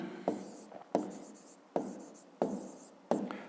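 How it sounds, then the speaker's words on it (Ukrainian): Handwriting on paper: five distinct pen strokes scratch in a loose rhythm, close and quiet, each a short rasping stroke fading out, with nothing else heard. "Ну і тоді записуємо."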